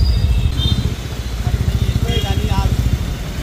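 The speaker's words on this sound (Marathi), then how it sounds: "याने न्यू बाईक घेतलेली आहे, हंटर" A new Hunter motorcycle runs close by with a steady, rhythmic engine throb that pulses throughout, and a voice speaks briefly over it.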